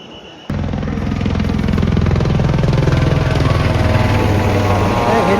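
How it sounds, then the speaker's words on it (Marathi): A helicopter over the Siddhanath temple fair at Kharsundi roars in loud and close, its rotor chopping in a fast, even pulse that starts abruptly and keeps going. "हेलिकॉप्टर आले बघा"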